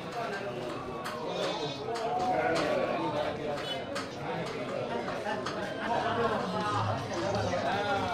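Goats bleating among a crowd at a goat market, with steady chatter and murmuring voices throughout and occasional clattering in the background.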